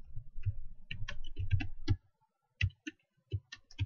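Typing on a computer keyboard, close and fairly quiet, a quick run of clicking keystrokes, a brief pause, then a few scattered key presses.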